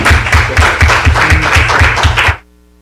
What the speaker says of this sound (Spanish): Les pido un aplauso para él.